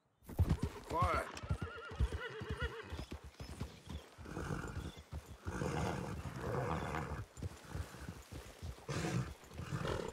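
Horses whinny and neigh, with clip-clop hoofbeats and tack noise, in a woodland clearing in Red Dead Redemption 2. The sounds are close, and a loud whinny opens the sequence, with voices speaking at times.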